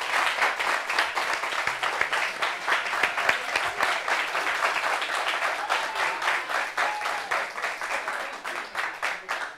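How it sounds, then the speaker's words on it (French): Audience applause welcoming a guest on a talk show, steady rhythmic clapping from a studio crowd, lively and sustained for several seconds. "Applaudissements pour Bonnie Anne Thierry"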